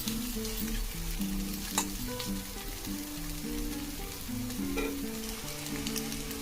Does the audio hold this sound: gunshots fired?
no